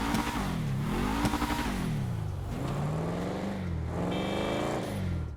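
Redwood Gauntlet, the racing variant of a muscle car in GTA 5, revs loudly and steadily throughout, its deep exhaust note rising and falling in pitch with no voices over it.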